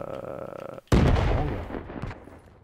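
Grenade blast in the Black Ops 3 shooter game: a sudden loud boom after a brief hush, then a long rumbling decay with scattered debris and pops trailing off.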